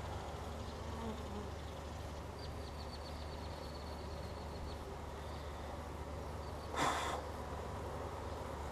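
Honeybees hum in a steady, close drone as a frame of comb is lowered back into the hive, with faint higher buzzes passing and a short, louder rustling burst near the end.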